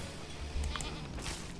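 Goats in the farming game Farm Together 2 give a couple of short, faint bleats against a soft background hum.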